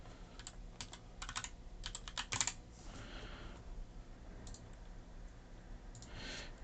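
Quick bursts of typing on a computer keyboard, several clusters of crisp key clicks separated by short pauses, close and fairly quiet with no speech.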